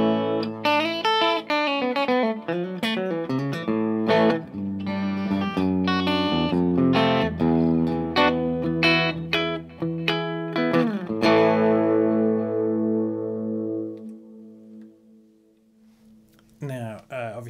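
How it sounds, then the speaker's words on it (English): An electric guitar plays in a clean tone through delay, reverb and an EP booster pedal, with picked notes and chords ringing out and echoing, then a long decaying tail before a final strum. "Obviously, I've got the delay on there and the reverb and the EP booster, but there's nothing else going on."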